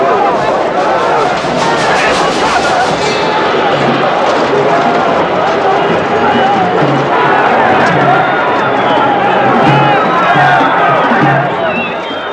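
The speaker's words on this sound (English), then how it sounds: "after 2 days of violent skirmishes, the crowd suddenly breaks through" A large crowd of parliament supporters in early-1990s Russia surges through riot police lines after days of violent skirmishes, a dense, loud, continuous roar of shouting voices and running feet that never lets up.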